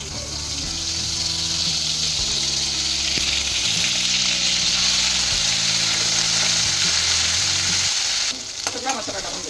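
Tempering spices crackle and sizzle in hot oil in a kadhai while jackfruit bhaji is being cooked: a loud, continuous frying hiss over quiet background music, dying away near the end.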